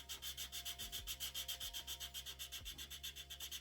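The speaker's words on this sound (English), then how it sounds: "then I can go back and just sand off the rest of it here" A plastic 1/25 scale model truck body is sanded by hand in quick, even back-and-forth strokes, a soft rhythmic scratchy rasp close up and steady throughout, with no voices.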